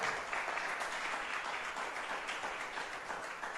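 A church congregation applauds during a sermon, producing steady, dense clapping that holds at an even level throughout, sounding fairly distant and roomy with no talk over it.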